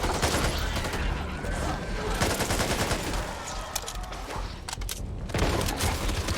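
Sustained gunfire from the video game Back 4 Blood, with loud, rapid, overlapping shots and bursts that fill the whole stretch and bring some mechanical clatter.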